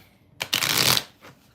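Tarot cards are shuffled close by during a live reading: one dense, papery riffle lasting about half a second, then a softer brief flutter.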